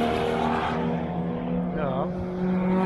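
Race cars including Porsche 992 Cup cars run during an NLS test session at the Nürburgring, a steady engine drone with a brief rising and falling note as one passes, while people talk nearby.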